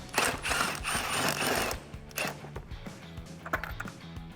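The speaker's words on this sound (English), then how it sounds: "take a little extension along with a 10 socket and get that guy off" A 10 mm socket on a small extension and ratchet loosens a bolt on a 2015-2017 Mustang GT during a cold air intake swap, giving a burst of rapid clicking followed by scattered sharper ratchet ticks and clanks, close and moderately loud.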